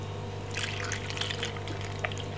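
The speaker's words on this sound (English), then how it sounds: "Then we're gonna put a little bit of water," A little water poured into a blender jar already holding lime juice for a fresh cucumber drink, a short splashing trickle against a steady background hum.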